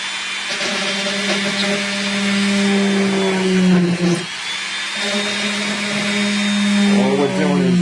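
A high-pitched Dremel rotary tool whines steadily up close, its pitch dipping briefly as it drills holes into a plastic model starship kit, then spinning back up.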